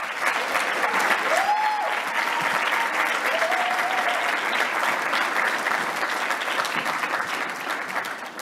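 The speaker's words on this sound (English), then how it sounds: "Another round of applause for this panel." Sustained applause from a conference audience after a panel discussion at an ecommerce forum, steady and dense for the whole stretch with no talk over it.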